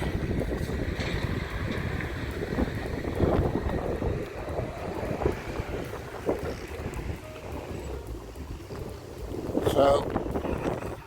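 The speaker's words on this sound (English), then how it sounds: "it is quite windy" Wind buffeting a microphone outdoors at a site with helicopters, a constant loud rumbling roar with gusty swells, while someone speaks intermittently under it.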